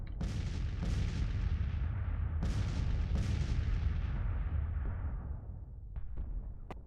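Long-range artillery fire in the Grand Tactician Civil War game, several booming cannon shots in close succession with rolling, reverberant rumble that fades, followed by a couple of distant cracks.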